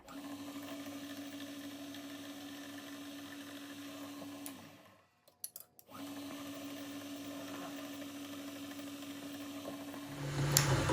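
A drill running steadily while boring a small hole for a number 2 set screw in a part for a six-cycle engine cam gear or eccentric, a constant motor whine that briefly stops and restarts, close and alone without talk.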